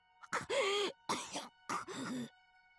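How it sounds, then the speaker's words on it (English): Three short, harsh coughs or throat-clearing bursts with a groaning, voiced quality from a character in the video game Iwaihime, close and isolated against silence. "Cough, cough, cough."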